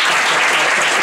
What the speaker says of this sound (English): So let's practice clapping.